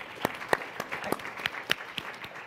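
Scattered clapping from an audience at a climate summit after a speaker finishes, with distinct individual claps popping out over a softer wash of hands.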